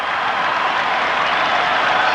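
Crowd noise at a 1986 Carlton versus Melbourne Australian football match, a steady, dense roar of spectators filling the whole stretch, broad and continuous with no clear breaks.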